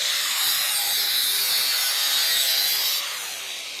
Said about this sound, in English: I'm just going to cut this a little narrower.